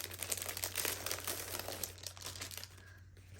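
Paper pack kits from Dollar Tree crinkle and rustle as they are handled, a steady close crackling with faint low hum underneath and no speech.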